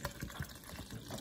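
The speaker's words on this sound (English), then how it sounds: "I'm gonna pour some water" Water pours into a blender jar over a banana, a whole carrot and strawberries for a smoothie, a continuous splashing gush with small bubbly pulses, close and fairly loud, no voices.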